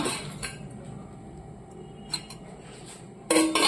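A small spoon with a lid and other utensils are handled, making light clinks and taps over a quiet background, then a brief, louder burst of clattering at the end.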